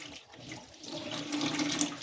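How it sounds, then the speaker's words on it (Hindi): Running water pours steadily for a moment of handwashing, a close, rushing splash that swells slightly toward the end. "हाथ धो लेती हूँ"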